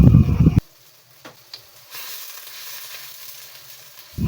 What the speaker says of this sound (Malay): Tumis bawang besar yang sikit tadi tu. Guna minyak yang goreng ikan tadi tu.